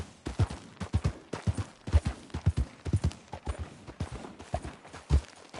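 Horse hooves clip-clop in a steady trotting rhythm on a Red Dead Redemption 2 ride, close and clear, with no talk over them.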